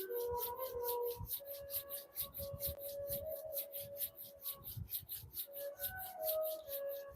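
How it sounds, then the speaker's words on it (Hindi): Both palms rub together briskly in a yoga class, a soft, steady rhythmic swishing friction that pulses repeatedly, close and quiet, with no talking. "दोनों हाथों में आपस में घर्षण कीजिए, रब कीजिए।"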